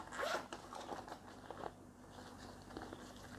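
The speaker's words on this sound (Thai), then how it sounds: "มีช่องซิปหนึ่งช่องค่ะ" A zipper on the inner pocket of a small Kate Spade handbag is pulled in a quick, quiet rasp, followed by faint handling rustles and light clicks.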